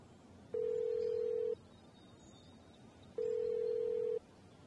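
Telephone ringback tone heard while placing a call: two long steady beeps about two seconds apart, clear and alone over faint background hiss.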